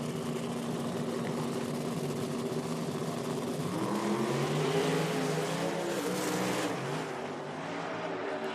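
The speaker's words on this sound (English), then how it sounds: "You can hear him feathering that thing all the way down the track" A drag racing car at the IHRA Outlaw Nitro Spring Nationals has its throttle feathered down the track, a continuous wavering engine roar rising and dipping in pitch, heard from a distance with no talk.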